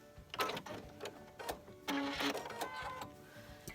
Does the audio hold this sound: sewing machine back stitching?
yes